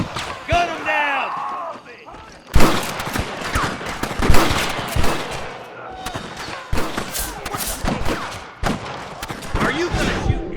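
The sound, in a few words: gunfire in video game Red Dead Redemption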